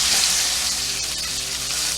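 A New York strip steak searing in hot olive oil in a pan, a loud steady hiss and crackle that holds evenly throughout, close up and with no talk.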